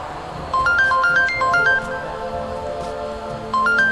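A mobile phone ringtone plays a bright repeating electronic melody, loud and close, in two bursts separated by a short pause, with no talking over it.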